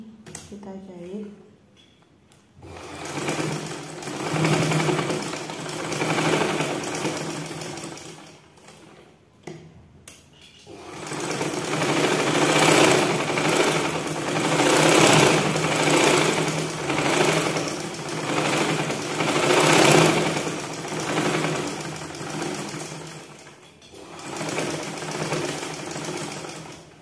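A sewing machine stitches blouse fabric in two long runs of rapid, steady whirring and clattering close by, separated by a short pause with a few clicks.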